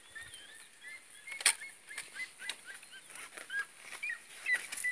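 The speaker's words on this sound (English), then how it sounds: "that bird in the background is actually a goose-type creature called a Sadiema, who sounds like he's laughing hysterically" Repeated high chattering goose-like bird calls, somewhat like laughter, rise and fall over steady background insect or bird noise, moderately distant.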